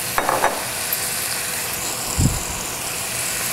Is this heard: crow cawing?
no